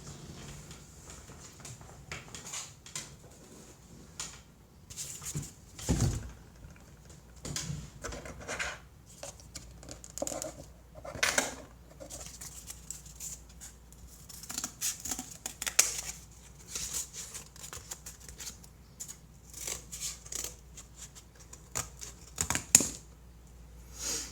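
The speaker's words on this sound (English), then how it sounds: "So let me give it a good cut." Scissors snipping through cardboard in a series of sharp, irregular cuts with short pauses between, fairly close and quiet, with no talking.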